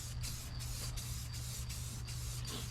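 Spray gun laying a light mist of white paint on an FMS Ranger model, in short hissing bursts at an even rhythm over a low steady hum, close by, with no talk.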